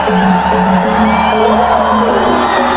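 A stadium crowd at a T20 cricket match roars and whoops in a loud, sustained swell of mixed voices, close and unbroken with shouts rising above the din.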